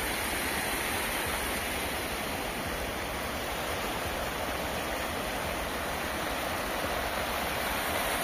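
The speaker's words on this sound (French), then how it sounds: "On a une petite cascade juste là." A small waterfall on a countryside stream produces a constant, even rush of falling water, dense and close, with no pauses or other sounds.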